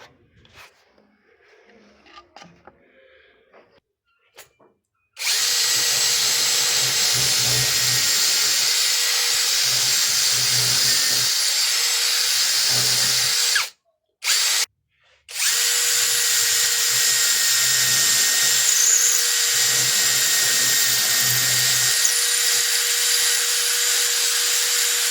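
After a quiet start, a power drill whines loudly and steadily up close as it bores into a wall for fibre cable installation, pausing twice briefly before continuing to grind.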